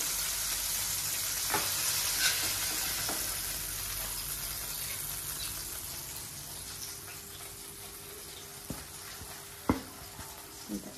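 Pieces of homemade KFC-style fried chicken sizzle steadily in hot oil, a broad continuous frying hiss with occasional sharp pops and crackles, close by and without talk.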